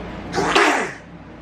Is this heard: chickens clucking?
no